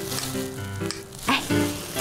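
Packing foam pulled from a foam box is squeezed and popped by hand, giving crackly squeaks and sharp pops in quick irregular bursts, close and fairly loud.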